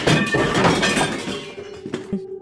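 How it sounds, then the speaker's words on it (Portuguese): Plates crashing and shattering, a loud burst of breaking crockery with scattered clinks and a few fragments settling at the end, no voices. "de pratos quebrarem."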